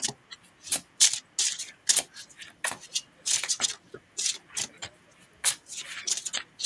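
Playing cards shuffled by hand during a card reading, a run of quick riffling bursts and soft slaps, close and moderately loud, with short pauses between shuffles.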